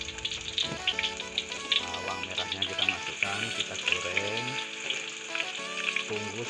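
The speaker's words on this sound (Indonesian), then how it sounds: "Bawang merahnya sambil digoreng, sambil diaduk-aduk." Shallots sizzle and crackle steadily in hot oil as they are stirred, a dense, continuous frying hiss with scattered pops, close and fairly loud throughout.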